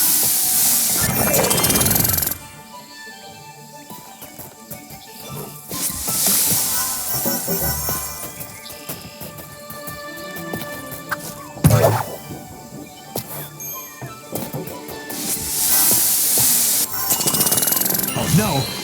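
The Smurfizer healing spray from The Smurfs: Mission Vileaf video game hisses out in several loud bursts of spraying, mixed with game music and character talk.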